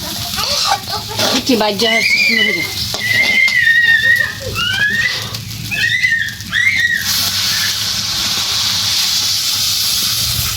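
Water hits a hot frying pan of toasted broken rice and bursts into loud steady hissing and sizzling, running alongside voices talking early on and then continuing alone.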